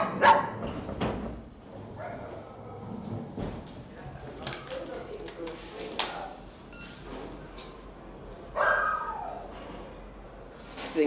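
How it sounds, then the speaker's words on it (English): A dog in a travel crate at an airport growls and barks, giving several sharp separate barks and a few whimpers at moderate distance, with someone narrating over it. "Though a growl and a bark need little translation."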